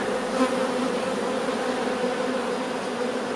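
Honeybees hum in a dense, steady drone at an open hive during a spring colony inspection, close and continuous with no voices.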